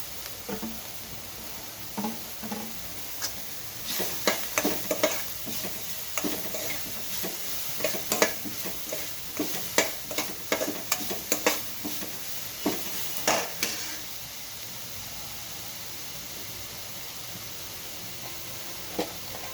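Carrots fry in a pan under a steady soft sizzle, while a spoon scrapes and stirs in quick, irregular strokes for the first half before the stirring stops and only the sizzle remains.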